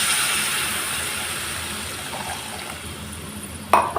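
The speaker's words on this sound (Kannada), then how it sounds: "ಅದು ಹುಳಿ ನೀರು ಹಾಕ್ತಾ ಇದ್ದೇನೆ" Tamarind water is poured for tomato rasam, a continuous close liquid rush that slowly fades, followed by a short knock near the end.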